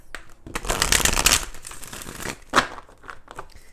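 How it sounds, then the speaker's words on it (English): Tarot cards riffled and shuffled in a quick burst of papery flutters, then a few lighter taps and one more short riffle, close and alone. "let's do 4 major shuffles here and pull the energy for the Geminis watching this reading"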